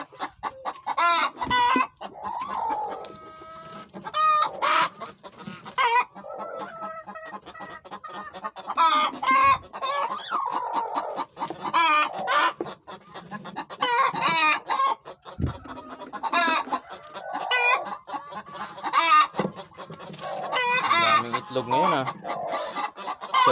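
Native chickens and fighting cocks cluck loudly and almost continuously near a farmyard egg-laying area, with hens cackling and a rooster crowing amid the busy flock, no talk heard over it.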